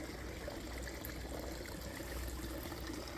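Water flowing into the upper pool of a garden water feature, a soft continuous trickling and splashing wash, steady and moderately distant with no talk.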